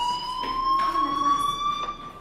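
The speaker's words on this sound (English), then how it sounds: "do you hear that fire alarm? That means you should be outside." A steady electronic fire alarm rings in the video game Life is Strange, with sustained tonal beeping that holds at an even level throughout.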